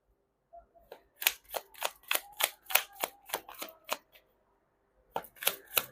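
A deck of tarot cards is shuffled close up in two quick bursts, a dense run of crisp, snapping riffles followed by a pause and a shorter final flurry.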